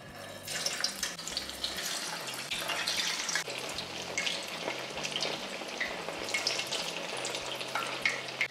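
Potato pieces frying in a pan of hot oil, two at a time: a steady, dense sizzle and crackle close by, with a few small bumps of handling, and no talk.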